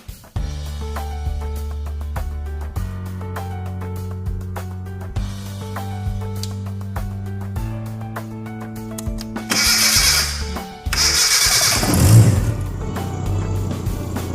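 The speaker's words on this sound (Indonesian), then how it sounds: "Oke, yang pertama adalah kita menghidupkan mesin." A vehicle engine runs at a steady idle during an ignition timing check, a low droning hum with small shifts in pitch, interrupted near the end by two loud bursts of hissing before settling back to idle.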